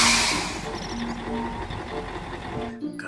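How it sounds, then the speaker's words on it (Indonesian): A dump truck rolls past on a road, its engine rumble and tyre noise steady and fairly close among general traffic before cutting off abruptly near the end. "Wih, ada mobil dump truck."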